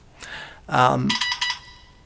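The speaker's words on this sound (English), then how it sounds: "Oops, sorry, it's my phone." A mobile phone rings indoors, a short electronic ringtone with bright repeated tones, heard just after a voice speaks and partly overlapping it.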